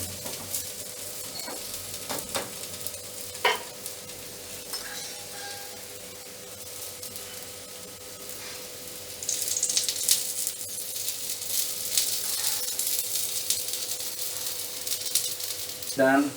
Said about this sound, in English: going to fry it or roast it on the skillet for a few minutes